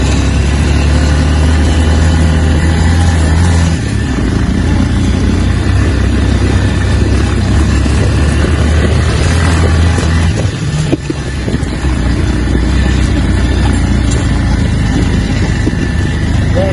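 Motorcycle engine labouring uphill on a rough road in second gear, lacking power: a continuous loud, rumbling drone with wind buffeting, steady throughout without talk.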